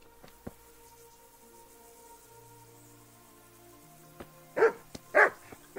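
Dogs barking in the medieval video game Kingdom Come: Deliverance, a few loud close barks bursting out near the end after a quiet stretch of ambient game sound.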